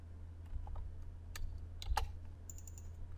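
A value is typed into a computer's text field on the keyboard: a few scattered clicks, then a quick cluster of sharp keystrokes near the end over a low background hum.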